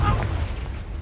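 A Confringo explosive spell from Hogwarts Legacy lands as a deep, rumbling boom that fades over about a second, fairly loud and close.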